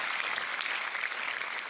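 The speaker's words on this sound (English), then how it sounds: "I think that's deserves one more big applause for the festival makers." Steady applause from a festival audience at an opening show, a dense even wash of clapping heard at moderate distance with no pauses.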